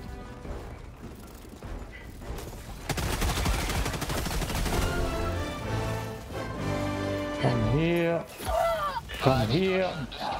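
Machine gun fire in Helldivers 2, a dense burst of rapid shots swelling in the middle, with a voice and other game sounds mixed in around it.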